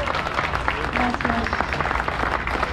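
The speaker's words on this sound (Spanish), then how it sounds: "Pido un aplauso para ella," Audience applause for a singer performing original Mexican-inspired music in Puerto Morelos, with steady, moderately loud clapping from a crowd and a voice speaking briefly over it.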